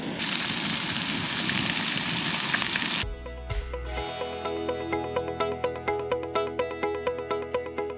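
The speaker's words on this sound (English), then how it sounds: "I'm gonna throw some bacon on." Bacon frying in a pan on a Jetboil Zip camping stove crackles with a broad sizzle for about three seconds before it cuts to tonal music with a rhythmic beat.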